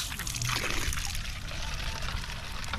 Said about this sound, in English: As a caution, before each usage, we should purge some cold water